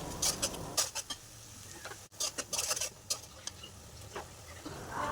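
Chicken fries with garlic, onion, chili and ginger pastes while being stirred, so a quiet, steady sizzle runs under a string of sharp clicks and scrapes from the utensil against the pan. There is no talking.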